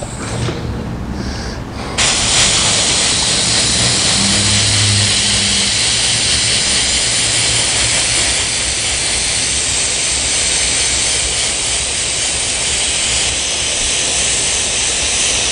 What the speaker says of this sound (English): I'm still new to this air gun and how it works properly.